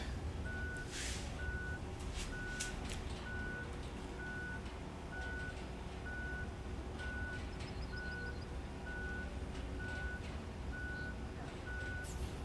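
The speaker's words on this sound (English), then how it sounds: "Sorry for the beeping, folks." Reversing beeps from a vehicle in the video game RoadCraft, a steady series of evenly spaced electronic tones repeating over a low engine drone and faint background noise, with no talking.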